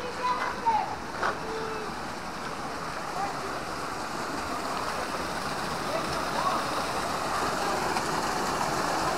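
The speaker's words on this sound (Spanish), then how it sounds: "Llegamos a esta pequeña cascadita." Steady rushing water from a small waterfall in Eaton Canyon, Altadena, California, a constant broadband wash heard from nearby, with a few faint brief knocks early on and no clear talk over it.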